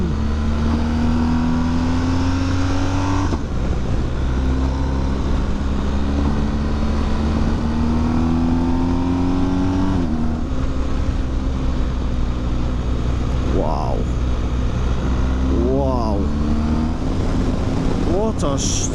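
Motorcycle engine held steady in second and third gear on a scenic rural road, a constant loud drone with gear changes and revs rising and falling, close and continuous with wind noise throughout.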